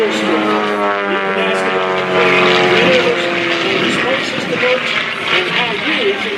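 A propeller aerobatic plane with a red and white paint scheme roars past on a knife-edge pass at an airshow, its steady engine drone loud and near, pitch shifting as it goes by, with a voice talking over it.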